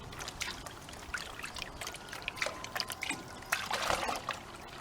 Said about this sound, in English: Now let's pan it out and see what we've got.